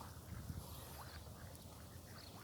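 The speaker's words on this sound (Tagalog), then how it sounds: "Ito yung pato." A farm duck quacks a few times in a short burst outdoors, moderately close, against steady low rumbling background noise and no talk.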